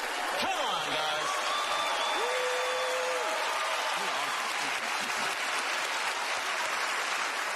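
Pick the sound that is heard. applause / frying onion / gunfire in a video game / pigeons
applause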